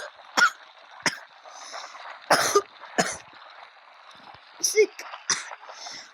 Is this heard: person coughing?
yes